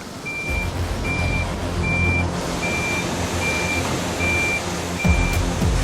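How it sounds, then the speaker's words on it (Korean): A truck from the Gimpo slaughterhouse backs up at a factory in Paju, its reversing alarm beeping in an even, regular series over a loud diesel idle and occasional air-brake hisses. "하루 2번 김포 도축장에서 출발한 트럭이 공장에 도착하면 사람들의 마음이 바빠진다"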